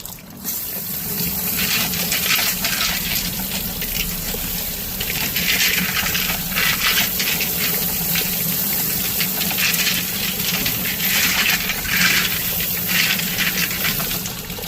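Water rinsing a batch of large tumbled agates: a steady, close rush of running water with stones rattling and clinking throughout.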